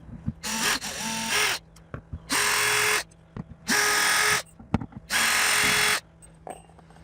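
A power tool backs screws out of a plug cover in a Forest River Rockwood 2511S camper: four separate high whirring bursts about a second each, close and clear, with small clicks and handling noises in the gaps.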